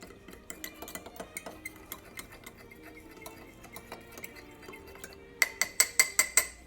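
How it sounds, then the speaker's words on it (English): A fork clinks and taps rhythmically against a bowl while stirring a heaping tablespoon of cornstarch into half a cup of cold water, with sharper, brighter clinks toward the end; no talking. "Stir it well with a fork."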